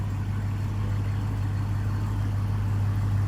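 A Nissan Juke Nismo's engine runs steadily in drive, a close, even low hum with a constant drone and no voices.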